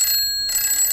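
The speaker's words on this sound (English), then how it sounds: "Lodge's experiment shows his gizmo is working because the signal moves a needle and rings a bell" A bell on Lodge's early radio receiver experiment rings with high, bright metallic tones that hold steadily for about a second, pausing briefly partway through.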